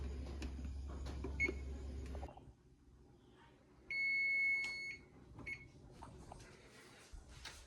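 An oven being set for about nine minutes to bake a giant holiday cookie, a steady electronic beep tone sounding for about a second amid quiet kitchen bumps and handling noises.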